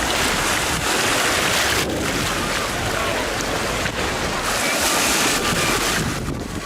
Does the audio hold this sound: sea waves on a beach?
yes